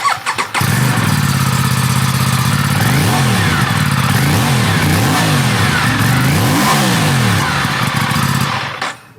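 Aprilia RS457 sport motorcycle with a 270-degree crank and stock exhaust fires up and revs repeatedly, loud and close, its pitch swinging up and down in a series of blips before cutting off.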